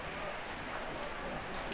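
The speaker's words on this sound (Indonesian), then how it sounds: "Ya, hujan terus dan hujan terus ini" Steady rain falls at a goat farm in a very rainy area, a soft continuous hiss with no distinct drops, quiet and unbroken throughout.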